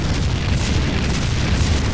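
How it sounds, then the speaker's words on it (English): A dense, continuous rumbling boom of explosions in Max Payne 2, loud and muffled, rolling without pause like distant blasts. "Explosions are happening and I'm not even aware of where they are."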